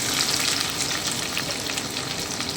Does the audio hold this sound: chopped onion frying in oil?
yes